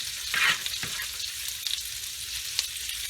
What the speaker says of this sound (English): since it's sizzling now, we know it's hot. We're going to go ahead on and put the meat on there